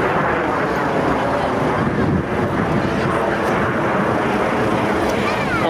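Red Arrows jets fly in close formation overhead at an outdoor airshow, a broad, distant roar that holds steady throughout, mixed with wind buffeting the microphone.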